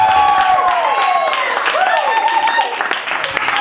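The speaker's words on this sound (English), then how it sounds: "Okay, well, round of applause." An audience at a late-night comedy show breaks into steady clapping. A voice talks over the applause, and the clapping thins out toward the end.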